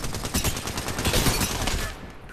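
Mozambique shotgun blasts from the Apex Legends video game, dense loud firing mixed with other combat noise, close and continuous for about two seconds before dropping off.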